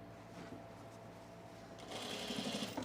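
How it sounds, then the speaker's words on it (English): A sewing machine top stitches a facing down on overalls, running with a steady mechanical whir that turns noticeably louder and brighter partway through, close and faint, with no talking. "I am top stitching the facing down"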